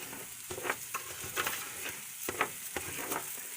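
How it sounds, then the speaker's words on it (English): Raw rice sautés in butter in a pan for shrimp risotto, a soft steady sizzle broken by repeated scraping stirs at close range. "So I'm letting that rice saute a little bit in our raw"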